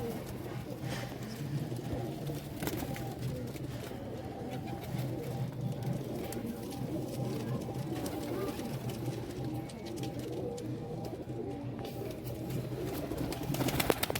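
Pigeons coo in low, repeated calls throughout, mixed with background chatter from people talking nearby and occasional sharp clicks.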